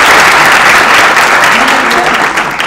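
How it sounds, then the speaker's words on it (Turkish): Sustained audience applause at a theatre play, dense and steady clapping filling the whole stretch, loud and close, easing slightly toward the end. "Onun için bir alkış istiyorum."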